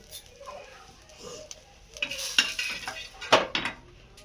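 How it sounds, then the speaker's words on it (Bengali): An egg roll frying in a pan, pressed and flipped with a metal spatula, with a light sizzle under sharp scraping and clinking strikes that grow louder toward the end. "এভাবে দেখো খন্তির সাহায্যে ভালোভাবে চেপে উল্টে পাল্টে ভেজে নেব।"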